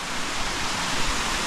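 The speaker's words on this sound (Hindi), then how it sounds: "ये वो जल है रॉबर्ट केस से जो आ रहा है" Water streams out of Robber's Cave (Guchhupani) in the low-flow season, a steady, close rushing hiss of running water with no breaks and no voices.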